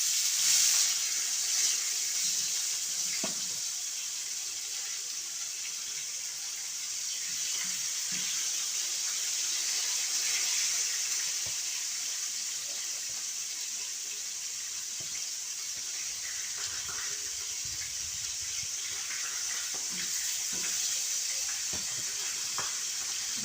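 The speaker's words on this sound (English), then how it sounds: "my oil hot. So I'm gonna go and put in, we go and fry" Fish frying in hot oil for a Jamaican brown stew fish head dish, a steady broadband sizzle and crackle that holds throughout with faint kitchen clatter and no talk.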